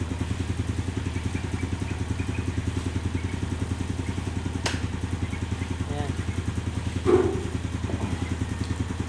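A Yamaha Sight motorcycle engine idles steadily with an even low throb, close by, with a brief clatter partway through.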